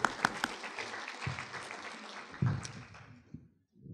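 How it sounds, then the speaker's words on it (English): Symposium audience giving a short round of applause, moderately quiet and scattered clapping with a few louder claps, tapering off into near silence at the end. "Let's give them a round of applause right now"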